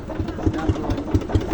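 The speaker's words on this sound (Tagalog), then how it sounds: "Pangisda na bangka." A small fishing boat engine chugging at a steady rhythm, regular low thumps about every fifth of a second, moderately close and not very loud.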